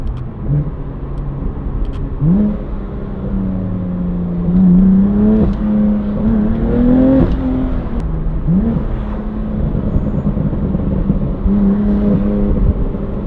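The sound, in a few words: BMW M3 engine revving on downshift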